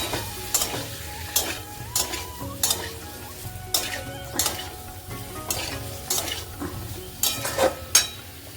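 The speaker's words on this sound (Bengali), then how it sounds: "ফুলকপিটা আর আলুটা ভাজা আছে ওটা দিয়ে এই নিরামিষ করেই রান্নাটা করছি" A pan of vegetarian cauliflower and potato curry sizzles softly while a spoon scrapes and stirs it in a steady repeated rhythm, close by, with no talking.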